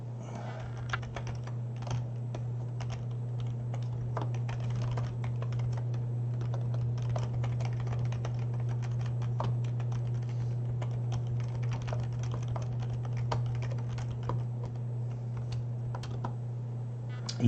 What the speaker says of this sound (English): I'm typing rather than talking because I don't know how much it's stuttering